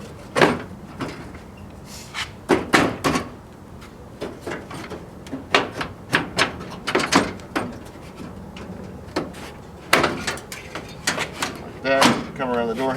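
A door panel on a Chevy C10 squarebody truck from 1973 to 1987 is bumped loose with the palm, giving a series of sharp knocks and rattles while someone talks.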